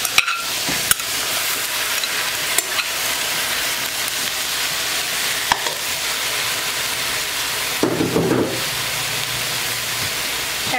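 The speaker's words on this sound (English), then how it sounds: "And we're going to give this a stir as well." Meat stirred into vegetables sizzles in a pot for Puerto Rican sancocho stew, a steady loud frying hiss with scraping stirs near the end, close up and without talk.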